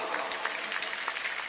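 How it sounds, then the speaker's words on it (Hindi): Faint, distant audience clapping at a Hindi-Urdu mushaira poetry gathering, a soft scattered patter of hands throughout. "मुझे एक बार पीछे तक ताली बजा करके हुक्म दें"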